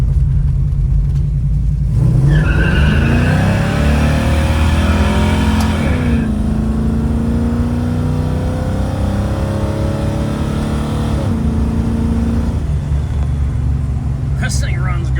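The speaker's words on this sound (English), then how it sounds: "This little car rips too." A 1970 Ford Mustang coupe with a 302 V8 and automatic transmission revs and accelerates with a deep, throaty rumble, pitch climbing through several gears, close and loud, with someone talking over it.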